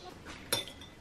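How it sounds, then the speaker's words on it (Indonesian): A spoon clinking against a cup while stirring microwave-warmed milk, a soft scraping swirl with one brighter clink in the middle, close and quiet in a home kitchen. "Diaduk dulu sebentar."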